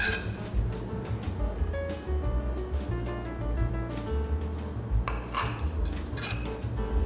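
Knife cutting open soft-boiled Korean marinated eggs, soy ginger or spicy mayak style: faint scattered taps and clinks of blade and utensils on a board or dish, quiet and close with no talking.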